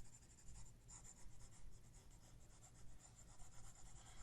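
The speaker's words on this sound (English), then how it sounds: "And we'll erase this." A board being erased after binary subtraction work, a continuous soft rubbing and swishing in quick back-and-forth strokes, faint and close, with no talking.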